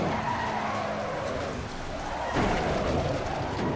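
Tires skid under hard braking on a Lamborghini Huracan EVO GT in a racing game at Spa, a steady loud screech over engine noise lasting several seconds, with no talk.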